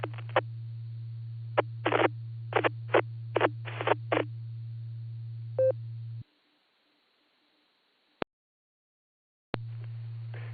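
A weak amateur radio station, out of range, keys up a two-metre repeater: a steady low hum carries short, choppy bursts of broken static, then a brief electronic beep, a dead gap and a single click before the hum returns.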